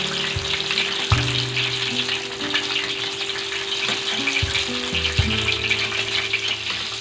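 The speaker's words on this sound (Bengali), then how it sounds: "পাকোড়াগুলো ভাজা হতে আমার 6 মিনিট সময় লেগেছে।" Tomato pakoras fry in hot oil over medium-low heat, a dense continuous bubbling sizzle close by with faint scraping as they are turned, no talking.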